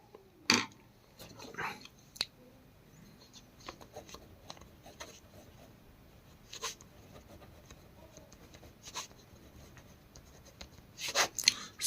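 Pen scratching faintly on paper while an answer is written out for a Class 10 maths exam problem, with soft sporadic strokes and small rustles in a quiet room.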